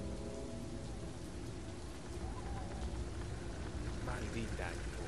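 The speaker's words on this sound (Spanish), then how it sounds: "Maldita lluvia. Parece que nunca va a parar." Steady heavy rain pours in a dark, tense scene from the video game Beyond Two Souls, a dense broadband hiss that stays loud throughout, with faint rumbles like distant thunder beneath it.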